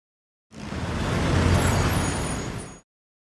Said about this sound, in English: I spend 20 peso to get on this open air truck packed